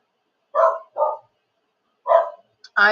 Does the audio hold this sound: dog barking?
yes